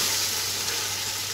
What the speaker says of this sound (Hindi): अब मैं इसमें शामिल करूँगी नेशनल का बिरयानी मसाला और इसे तकरीबन 5 मिनट अच्छे से भून लूँगी